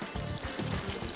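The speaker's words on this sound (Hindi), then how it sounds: "थोड़ा सा स्टॉक डालूँगी" Stock pours into a pan of sauce for Hunan fish with crushed chilies, a short, steady liquid rush close up, with no talking.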